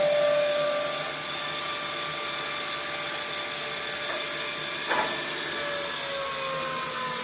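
A Mach 4 CNC machine running a dry cut, a loud, steady motor and spindle whine with tonal harmonics that holds evenly throughout, broken by a brief small bump near the end.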